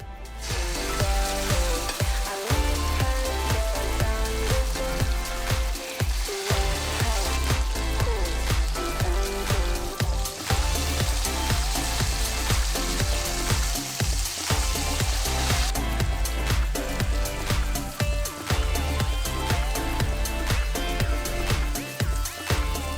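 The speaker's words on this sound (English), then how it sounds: "once your pan's hot, you can start frying up your chicken" Steady, dense sizzling of chicken frying in hot olive oil in a pan, loud and close, with scattered crackles and the occasional clink of a utensil throughout.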